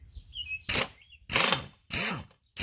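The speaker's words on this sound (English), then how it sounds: "now we're going to try to get these bolts loose" Bolts on a boat trailer being loosened with a power tool, four loud bursts of whirring and rattling separated by short pauses, the speed rising and falling within each burst.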